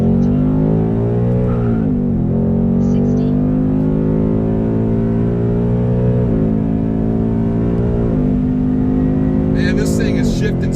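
Ford Mustang GT accelerating hard at full throttle through a 60-130 mph run, a loud sustained engine roar rising with brief dips at hard gear shifts and tire spin, recorded from inside the car.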